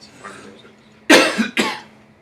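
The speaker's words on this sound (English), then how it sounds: "I'm gonna start having a coughing attack." A person with bronchitis coughs twice in quick succession, loud and close, after a faint voice and a quiet room.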